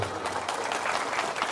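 An audience at an Indonesian religious talk clapping hands on cue: a short burst of dense, steady crowd clapping lasting under two seconds, fairly close and even.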